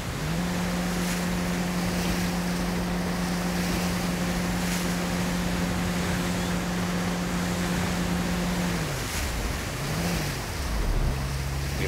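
A boat cruising on open water in the military game Arma II, with a steady engine drone and the rush of waves and wind, the engine pitch dropping and shifting near the end.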